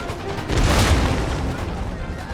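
A heavy boom from musket and artillery fire in Empire: Total War rolls out as a broad rumbling blast near the start, then decays into a lingering low roar, loud and unbroken.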